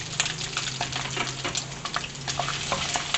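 Finely chopped onion sizzles steadily in a hot pan for a chicken ginger dish, an even close crackle broken by occasional stirring scrapes.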